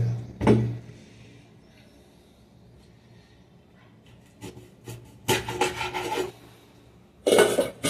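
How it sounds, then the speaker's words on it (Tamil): Cutting up a kola fish (flying fish) at a cleaning area, with rasping scrapes of a knife through flesh and bone: a sharp stroke near the start, then a series of rough scraping cuts later on, close and fairly loud. "இப்போ மீதி இருக்கிற மீனை கட் பண்ண வேண்டியது தான்"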